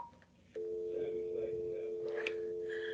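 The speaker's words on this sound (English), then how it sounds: "I can still hear the phone" A steady telephone tone on a call line starts abruptly and holds continuously, fairly loud, with faint background noise and brief clicks over it.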